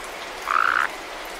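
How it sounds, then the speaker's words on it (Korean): A single short, buzzing toad croak sounds once, clear and close, over a steady soft background hiss, used as a sound effect for a toad coming into a kitchen in a children's folk tale. "두꺼비 한 마리가 부엌으로 들어왔어요"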